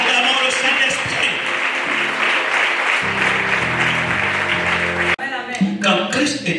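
A church congregation applauds loudly and continuously in a hall, with a voice speaking and shouting over the clapping.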